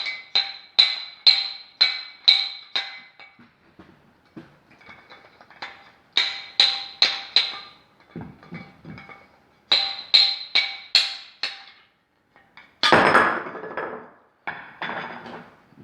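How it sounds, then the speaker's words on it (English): A dowel rod knocks repeatedly inside a scored glass bottle, bursts of sharp close ringing taps in quick rhythmic runs separated by pauses, with a heavier clatter near the end as the bottom gives way. "if I take this dowel rod and stick him in this hole bottle, the bottom should drop off."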